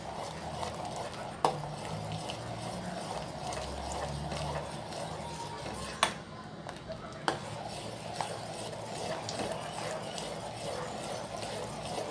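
A spoon stirs Hyderabadi mango kheer in a pot as an ingredient is poured in, making a steady scraping swirl punctuated by a few sharp metal clinks against the pan, with no voices.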